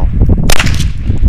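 A single sharp, close crack from a .22 semi-auto rifle fired at bottles outdoors, cutting through steady low rumbling background noise and fading quickly.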